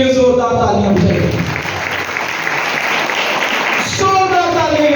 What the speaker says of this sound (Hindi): और यीशु के लिए जोरदार तालियां बजाएं।